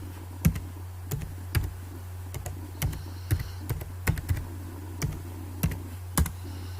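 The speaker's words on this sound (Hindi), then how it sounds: "यहाँ पे मैं एंटर कर देता हूँ।" A computer keyboard being pressed at a desk, with about a dozen crisp, evenly spaced key clicks over a steady low hum, close and moderately loud, with no speech.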